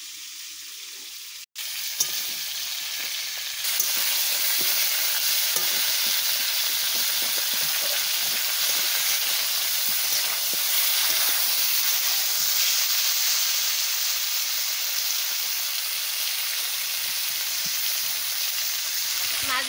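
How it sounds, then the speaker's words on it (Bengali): Fish frying in a pan for a home-cooked Bengali meal, a steady loud hissing sizzle that runs almost continuously after a brief quiet start, with no talk. "মাছ ভাজা হয়ে গেছে, নামাই নিচ্ছি।"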